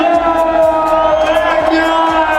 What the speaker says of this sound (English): All the petrol fans in the house, clap back. Give it up for the world champion